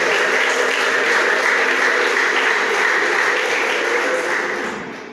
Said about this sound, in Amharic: እስቲ ለዚህ ጌታ ጭብጨባ ክብር ስጡ አንድ ጊዜ።